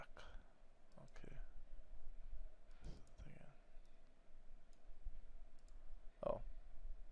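Computer mouse clicking while working in Adobe Illustrator, faint, sharp clicks scattered across a quiet room, including a quick double click, with soft speech in between.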